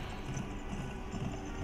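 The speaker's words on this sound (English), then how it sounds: "Ride like the wind, Bullseye, yeehaw" Hooves of a horse galloping in a Western-style video game, a steady rhythmic clip-clop pounding close and continuous beneath low game noise.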